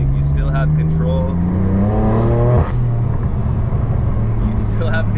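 A BMW M4 F82 with a manual gearbox, driven fast in Sport Plus mode, its exhaust droning and rising in pitch as it revs, loud and steady, with a voice talking over it throughout.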